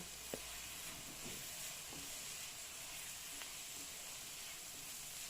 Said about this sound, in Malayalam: നമ്മൾ ഈ അരിഞ്ഞു വെച്ച നമ്മുടെ സബോള ഇഞ്ചി വെളുത്തുള്ളി പച്ചമുളക് വേപ്പില ഇതൊക്കെ ഇട്ട് നമ്മൾ നന്നായി വയറ്റിയെടുക്കുന്നുണ്ട്